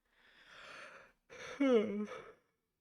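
A person yawns, starting with a long breathy inhale, a short pause, then a voiced, drawn-out groan that slides downward before trailing off, close and fairly quiet.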